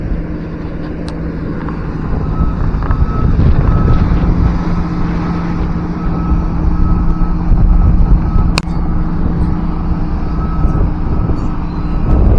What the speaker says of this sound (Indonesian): cukup banyak sekali truk dan juga alat berat yang beroperasi